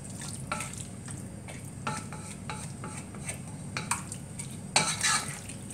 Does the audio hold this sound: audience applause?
no